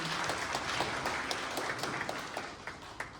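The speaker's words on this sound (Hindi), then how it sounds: "आप इनके लिए जोरदार तालियों से इनका स्वागत करिए" A hall audience at a BJP Mahila Morcha gathering gives loud, sustained applause to welcome mandal office-bearers, a dense wash of many hands with sharper individual claps popping through toward the end and no talk over it.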